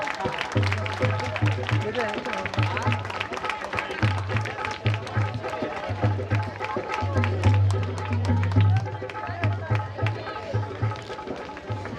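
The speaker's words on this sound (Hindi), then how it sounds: "तालियां बजती रहनी चाहिए।" An audience applauds steadily at an honour ceremony during a theatre festival, dense continuous clapping under music with a rhythmic beat and a voice over a loudspeaker.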